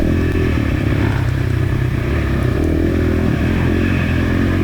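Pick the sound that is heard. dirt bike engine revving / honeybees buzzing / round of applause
dirt bike engine revving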